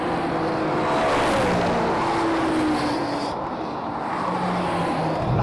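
Several generations of BMW M3 drag racing, a loud sustained engine roar with rising gear tones as the cars pull away, steady and close with no talk.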